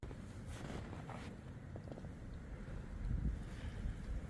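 Cold wind blowing outdoors, a steady low rush with gusty swells, loudest near the end, buffeting a nearby microphone with no voices.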